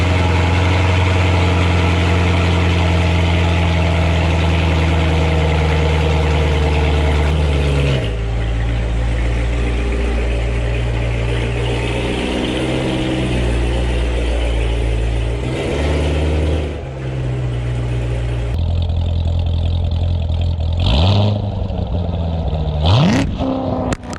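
C7 Corvette V8 with a Borla X pipe and an Attack Blu air filter, a deep, loud idle burble that steps between engine speeds, followed by a few sharp rising revs near the end.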